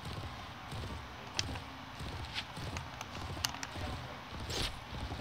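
Horse hooves clop faintly in Mount and Blade Warband while a rider moves through a tournament. Sparse, irregular thuds sit under a low background din.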